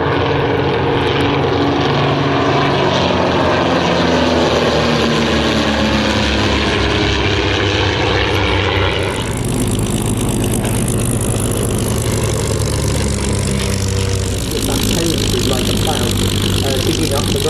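A Percival Mew Gull-era Hawk Speed 6 vintage propeller monoplane flies past with a loud, steady engine drone, changing character midway as it passes, while people talk over it.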